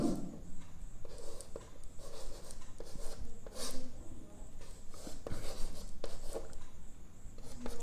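Chalk or marker scratches and rubs across a board in short strokes while equations for a chemistry lesson are written, with a teacher's voice faintly present.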